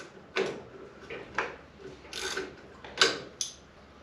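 Go-kart brake being loosened off the axle keyway with hand tools, giving a handful of sharp metallic clicks and ratcheting taps, close and fairly quiet, with no talking.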